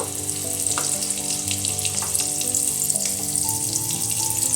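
Potatoes frying in hot oil, a continuous crackling sizzle with light bubbling and faint stirring, heard up close without anyone speaking over it.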